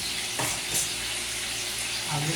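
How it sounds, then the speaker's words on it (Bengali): Hot water goes into a pan of chicken and potato curry, a loud continuous hissing rush with a sizzling edge that lasts the whole short moment, close to the microphone. "তখন সবার শেষে গরম পানি দেওয়া হবে"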